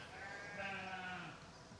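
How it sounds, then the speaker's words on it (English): A single goat gives one drawn-out, wavering bleat outdoors, quiet and somewhat distant, lasting just over a second. "Just noticing goats."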